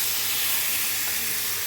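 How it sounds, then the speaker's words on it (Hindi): Chicken searing in a hot pan over high heat, a steady close hiss and sizzle running unbroken throughout, with no talking. "मैंने पैन को थोड़ा गरम किया और जो चिकन था वो इसमें मैंने शामिल कर दिया। पहले आपने इसको तेज़ आग पर पकाना है"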